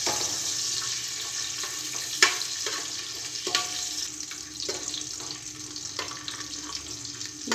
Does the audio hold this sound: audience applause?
no